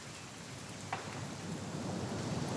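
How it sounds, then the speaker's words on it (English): Steady rain falls with a low rumble of thunder in the video game What Remains of Edith Finch, a soft continuous wash that swells gradually, with one faint brief crack near the start. "It's gonna rain the whole weekend,"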